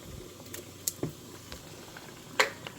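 A pot of homemade spaghetti sauce with brown sugar and oregano is stirred, giving a few soft spoon clicks and wet squelches over faint bubbling. It is quiet and close, with no talking.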